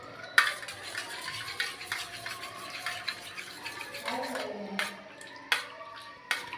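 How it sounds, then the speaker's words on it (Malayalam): A spoon stirs herbal hair wash in a bowl with soft, quiet scraping and a few sharper clinks, irregular and close, with no talk over it. "ഇതൊന്നിങ്ങനെ സ്പൂൺ കൊണ്ടൊന്ന് ഇളക്കിയിട്ട്"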